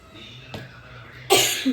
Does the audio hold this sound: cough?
yes